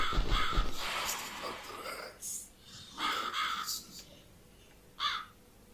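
A crow caws in The Cat Lady video game, a few harsh bursts spread across a dim, noisy backdrop, with a loud breathy burst at the start and a sharp caw near the end.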